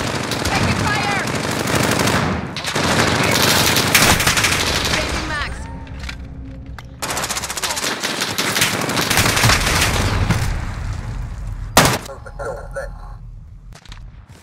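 Call of Duty: Modern Warfare gunfire rattles in loud, dense automatic bursts and sharp cracks, close and nearly continuous, with game voices calling out amid the shooting.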